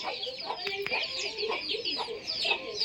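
Several backyard chickens cluck in short, repeated bursts at close range, with overlapping calls and no talking.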